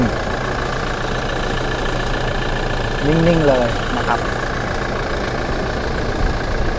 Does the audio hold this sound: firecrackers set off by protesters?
no